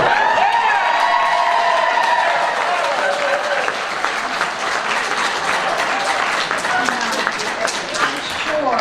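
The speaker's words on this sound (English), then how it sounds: "Okay, y'all have to applaud for us too." Lively crowd applause at a Baker Creek seed expo, sustained clapping with some cheering and voices mixed in, loud and continuous throughout.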